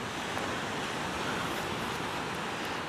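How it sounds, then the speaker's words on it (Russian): Sea waves wash onto a beach in southern Spain on a calm evening with no wind, a steady, soft, broadband surf hiss with no talking. "Немного морского шума не помешает."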